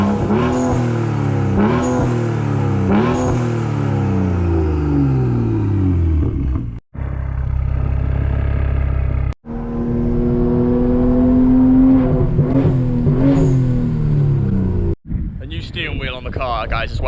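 BMW M235i with its N55 engine revving and driving nearby, loud rising and falling engine notes with sharp rev sweeps, brief cuts between bursts, and a harsh blip near the end.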